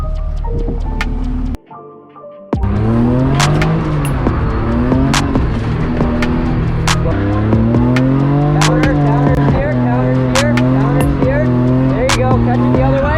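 A truck drifts at a Shannonville track event, its loud engine revving and surging in long sustained pulls with tire noise, heard up close after a brief cutout, with voices talking over it.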